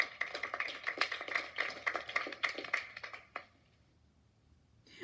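A small group claps in short, uneven bursts for a third-place winner, with bright percussive taps for a few seconds before the sound abruptly stops into near silence.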